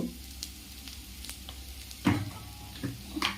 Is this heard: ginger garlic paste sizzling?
yes